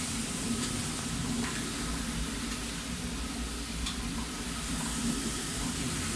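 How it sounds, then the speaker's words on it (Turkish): A historic village water mill more than a century old runs with a steady, unbroken rush of water and churning noise, holding at an even level throughout with no voices. "burası köyümüzün su değirmeni. Tarihi su değirmeni."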